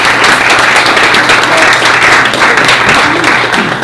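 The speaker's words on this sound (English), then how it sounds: "So I want everybody to give a round of applause and thank you." Loud, sustained round of applause from the audience at a Tallahassee startup networking talk, dense clapping filling the room without pause and easing slightly toward the end.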